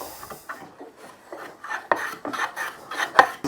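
The long edges of a wooden chopping board being arrised, with a series of close, uneven rasping strokes that build in loudness toward the end, no voices.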